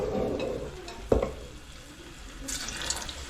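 Mushroom kebabs slipped one by one into hot oil in a kadai, a soft bubbling fry with a sharp thump around the middle and a brighter sizzle flaring near the end.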